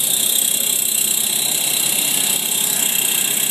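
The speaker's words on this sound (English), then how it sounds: "That noise you hear is my alternator over there ticking away." The alternator on a 1973 Toyota FJ-40 Land Cruiser with a 1F engine ticks steadily while the engine idles, giving a loud, continuous, fast mechanical chatter with bright high-pitched noise and no talking.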